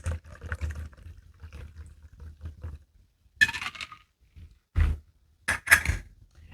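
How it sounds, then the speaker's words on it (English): A shaken cocktail poured into a martini glass, soft splashing and trickling liquid in short bursts with faint clinks, close by, with quiet pauses between. "pour it in this martini glass"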